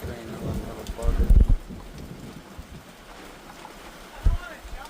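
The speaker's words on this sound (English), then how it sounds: "Oh, it's just raining. No thunder." Steady monsoon rain falls on surfaces outside a screened window, a continuous hiss with a few louder low thumps, while a person talks nearby.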